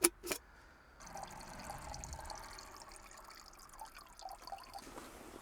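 Water trickles and splashes steadily into a container while camping by a car, with a faint continuous pour after a brief knock at the start.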